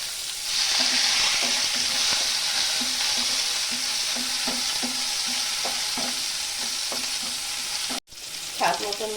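Dry red chillies and black mustard seeds sizzle steadily in hot oil for tempering a Bengali hilsa sour curry, with a loud continuous hiss punctuated by stirring clatter and a sharp clink near the end.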